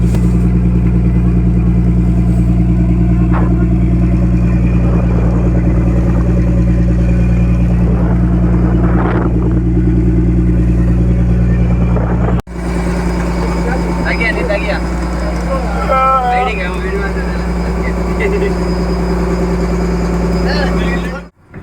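A fishing boat engine runs steadily on the way back to shore in strong wind at sea, a loud continuous drone with talk over it, briefly dipping partway through before resuming.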